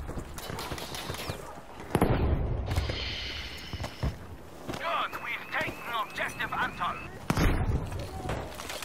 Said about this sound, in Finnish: Tykkiä ampuu niinku kaiken kaikki.